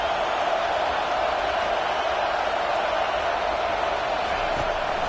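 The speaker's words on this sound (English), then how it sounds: "Listen to this crowd just shaking the girders of this place" Huge football stadium crowd at Michigan roars in a steady, dense wash of cheering that rumbles loud and unbroken throughout, with no break in the noise.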